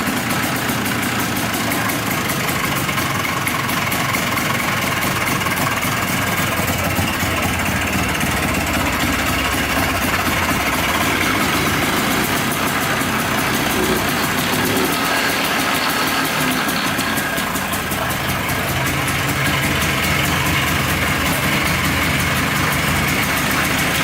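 A cheap, worn-out ATV 4x4 engine idles steadily and loudly the whole time, a continuous close mechanical drone with no talking.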